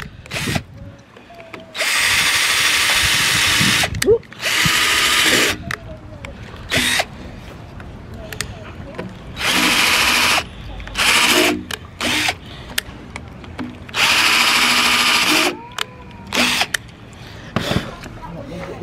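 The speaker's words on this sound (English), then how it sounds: "these other screws in here and then we're gonna get it hung guys and then we'll show you guys oh lord i hate drills" A power drill drives screws into a wooden privacy fence outdoors, whirring in several loud bursts of one to three seconds with quieter gaps of handling and background noise between them.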